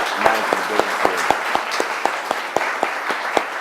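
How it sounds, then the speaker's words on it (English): Audience applause at a talk event, a steady patter of clapping hands from a crowd with sharp individual claps standing out, fairly close and continuous throughout. "Give a round of applause"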